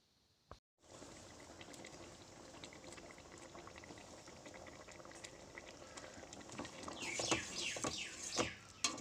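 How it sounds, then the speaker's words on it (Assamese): Matar paneer gravy simmers covered over a low gas flame, giving a steady close bubbling hiss that grows louder toward the end with sharper pops and plops, and no voices. "এতিয়া মই এইখিনি 10 মিনিটৰ কাৰণে লো ফ্লেমত ঢাকন লগাই সিজিবলৈ দিম।"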